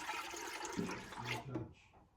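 Cream poured into a container for making butter, a close liquid rush and gurgle that runs for over a second before tapering off, faint and with no talking.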